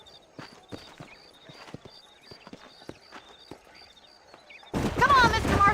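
Horse hooves clip-clop in a fast, irregular rhythm in the video game Red Dead Redemption, sharp and fairly close, and a loud voice cuts in near the end.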